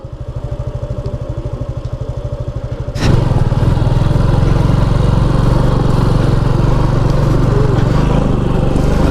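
Motorcycle engine idling on an off-road ride in Assam, a close steady putter with rapid even pulses, then a sharp jump into a louder, rougher continuous engine roar that holds to the end.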